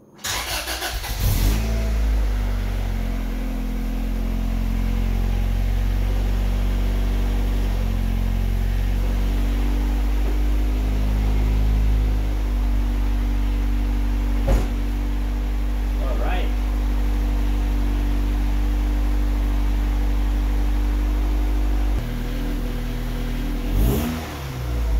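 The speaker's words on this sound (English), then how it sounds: "there's the exhaust all fully installed. We'll fire it up in a sec." A Honda Civic EF9/ED7 with an HKS Sport exhaust starts up and settles into a loud, steady idle close by, with a couple of sharp revs near the end.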